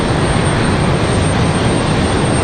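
An airliner in America's greenest airline livery departs Raleigh Durham International Airport, a loud, steady jet engine roar filling the air without break, heard from nearby on the ground.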